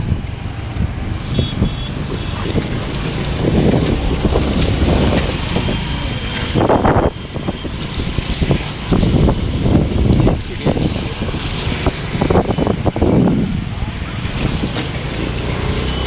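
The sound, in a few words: fast-flowing flood water of the Solani river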